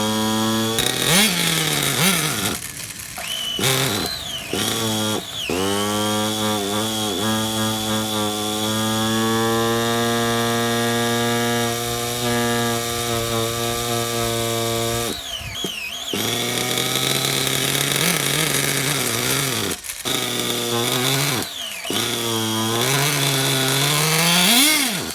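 A Hobao Hyper 7 PCR RC car's small nitro engine, running lean with an air leak, buzzes and whines loudly, its pitch rising and falling as it revs, cutting out briefly a few times before restarting.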